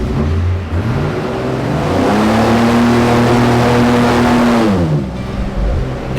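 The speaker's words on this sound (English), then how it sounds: "time to fire up the engines and continue to head upriver" Airboat engines roar into life and rev up, pitch climbing and holding steady before dropping off, big motors running close by on a river with no talking.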